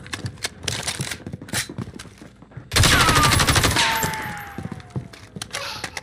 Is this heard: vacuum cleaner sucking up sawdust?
no